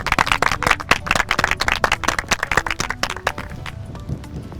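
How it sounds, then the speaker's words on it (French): Audience applause on a French broadcast after a 250 € donation to the Secours Populaire charity: dense, close clapping from many hands fills the first three seconds, then thins out and fades. "On peut les applaudir."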